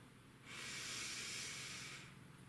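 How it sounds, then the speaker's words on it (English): A single deep inhale during a relaxation cool-down, a soft hissing draw of breath that swells in and holds steady for about a second and a half before fading out, close and quiet. "Take a deep inhale."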